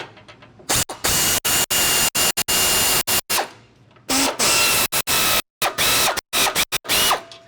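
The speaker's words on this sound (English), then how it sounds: "And I just like to use my air ratchet here." Air ratchet driving a short 15 mm socket while installing a 6-inch lift kit on a 2021+ Ford F150: loud, harsh pneumatic buzzing in repeated bursts separated by brief pauses, close up with no talk.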